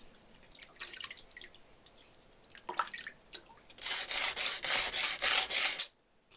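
Water poured and splashed onto a DIY polishing and stropping plate, scattered drips and light rubbing at first, then a louder stretch of pulsing wet scrubbing before it stops abruptly.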